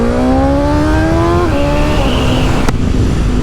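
A 2024 BMW S1000XR sports tourer revs and pulls away, its engine note climbing through gears with short dips at each shift, loud and close, with a brief sharp click near the end.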